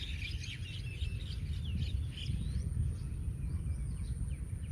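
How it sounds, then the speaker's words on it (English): Several birds chirp and sing outdoors in a natural setting, with bright, scattered calls over a steady low rumble of running water, no voices. "I hear the sound of water and birds singing."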